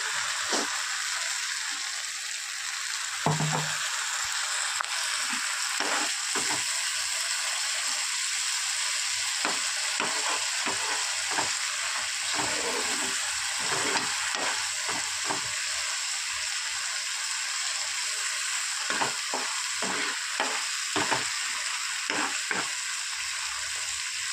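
Dhoka curry, fried lentil cakes in a spiced masala, sizzles in a pan under a steady hiss while a spatula scrapes and stirs in repeated close strokes; nobody speaks.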